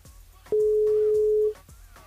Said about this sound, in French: On rappelle Pascal sur le standard